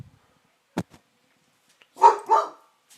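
A dog gives a single close bark followed a moment later by two quick, louder barks in a quiet room, with no talking.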